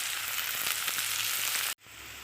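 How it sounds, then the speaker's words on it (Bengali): Chopped onion with a pinch of salt frying in a pan for a fish curry, a loud continuous sizzle close up that cuts off abruptly near the end, leaving a quieter hiss. "তো দেখো পেঁয়াজটা এরকম ভাজা হয়েছে"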